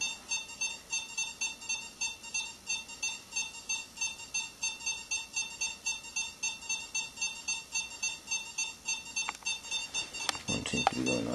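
Several ghost-hunting detectors in a hotel beep together in a steady, repeating electronic pattern. The pulses sound close and fairly clear, with a brief burst of other noise near the end.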